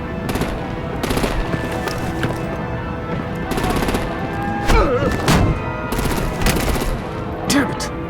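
Heavy artillery and automatic gunfire in the Batman Telltale game The Enemy Within, loud rapid bursts of machine-gun fire repeating in clusters with thumping impacts and booms between them.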